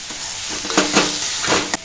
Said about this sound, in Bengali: এবার আলু আর করলাগুলো এর সাথে দিয়ে দেবো।